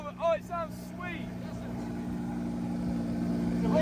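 A crashed Lamborghini Huracan's engine runs steadily after starting, a close, even mechanical drone that swells slightly louder toward the end, with a brief excited voice at the start.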